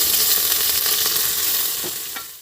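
Rice and green chillies frying together in oil for masoor dal khichdi, a close, even sizzle with faint scrapes of stirring that fades slightly toward the end, no voices.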